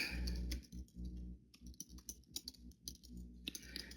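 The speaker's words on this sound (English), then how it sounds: "I'll type that in the box" Typing on a computer keyboard: quiet, irregular key clicks in uneven bursts with short pauses, and no talking.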